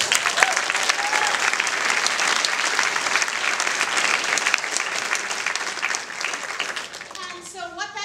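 Audience applause at an evening bookshop event, dense and steady clapping from a room full of people, with a few voices and a cheer rising near the end.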